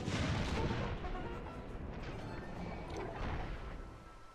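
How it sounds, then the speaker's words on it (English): Artillery fire during a battle in a war video game, with heavy booms and rumbling blasts rolling on continuously and loudest at the start. "So it'll end on an artillery duel."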